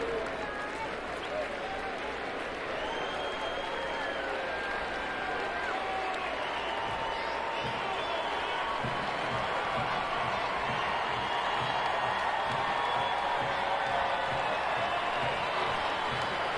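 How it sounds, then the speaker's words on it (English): Sunday afternoon baseball stadium crowd at Cleveland applauding and cheering with the bases loaded, a broad sustained roar of clapping and voices that swells slightly toward the end, heard at a distance. "Sunday afternoon crowd."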